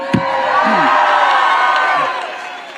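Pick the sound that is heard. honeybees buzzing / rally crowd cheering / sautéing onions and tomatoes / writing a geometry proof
rally crowd cheering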